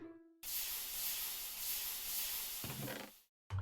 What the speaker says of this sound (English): Almighty steam compressor. Compress my infinity ingots for me